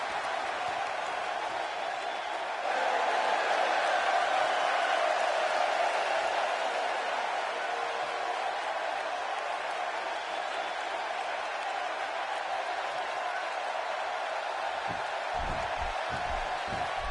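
Video game arena crowd from WWE 2K16 during a Stone Cold versus Bret Hart match, a steady roaring wash of cheering that swells briefly near the start and holds loud throughout.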